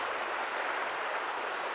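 High, loud river rushing in a constant broadband roar near Cry Baby Bridge, filling the short moment evenly with no pauses and no voices.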